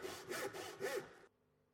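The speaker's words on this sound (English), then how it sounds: "Using a tenon saw, begin to cut along the waste edge of the gauge lines on 2 faces of the timber." A tenon saw cuts along gauge lines into timber held in a vise, giving four rhythmic rasping strokes up close, then stopping abruptly into near silence.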